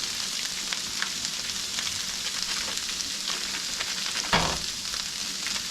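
Breakfast burrito filling sizzles and fries steadily in a pan, a loud constant crackle with a brief stirring scrape near the end, heard close up and alone without speech.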